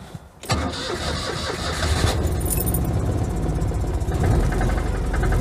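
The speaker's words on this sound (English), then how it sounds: "Sounds good, as clattery as ever on a cold start." A Citroën 2CV engine cranks and catches on a cold start, then settles into a loud, rattly, clattering idle close by, with a brief jingle of keys at the start.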